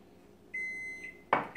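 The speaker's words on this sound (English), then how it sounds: "what you hear beeping in the background, that is my oven preheating at 350 degrees" A kitchen oven beeps while preheating to 350 degrees during carrot cake baking: a faint steady electronic tone, then a brief louder clatter and another short beep, distant in the background with no talking.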